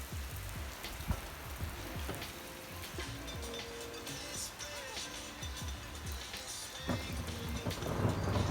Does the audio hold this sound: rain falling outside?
yes